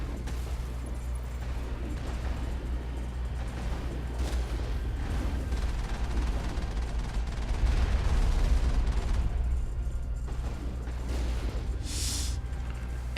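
Heavy turrets fire in Mass Effect, a steady rumbling barrage of booming shots with deep low-end weight that swells and thickens midway, carrying on without a break for several seconds.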